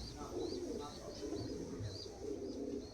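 Rampuri pigeons in a loft coo in soft, repeated low calls, with fainter higher chirps over a quiet, steady background.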